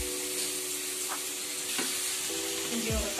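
Onion and tomato sizzle steadily in a pan for a fish curry, with a few scraping stirs near the end and a continuous frying hiss throughout.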